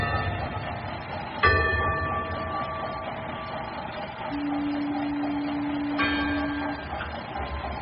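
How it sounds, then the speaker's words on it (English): Bell-like metallic strikes ring out twice with long decaying tones on a foggy sea off Cape Cod, between them a steady droning hum, all fairly close and without talk. "There's a gong, too, you hear?"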